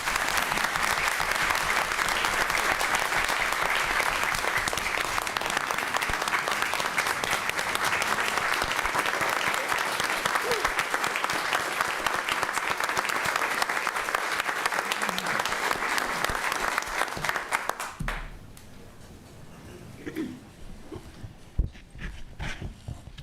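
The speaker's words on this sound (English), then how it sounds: "So if you'll just give them a round of applause." An audience at a town council meeting gives sustained, dense applause for about eighteen seconds, then stops abruptly, leaving a quiet room with a few faint thumps and rustles.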